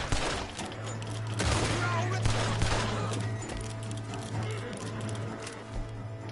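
Dense gunfire from a Red Dead Redemption 2 shootout, overlapping shots and bursts crackling loudly and continuously over a steady low in-game drone, with someone talking over the shooting.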